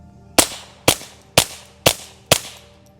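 Five evenly spaced suppressed .22 shots fired through a Jaguar Cas 22T, a 3D-printed titanium flow-through suppressor, each a sharp, close crack with a short decay, about half a second apart.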